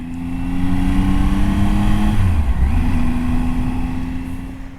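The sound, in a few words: motorcycle engine accelerating in first gear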